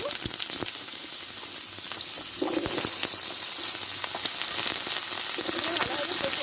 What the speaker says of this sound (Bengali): সবজিগুলো একসঙ্গে ভালোভাবে কষে নেব।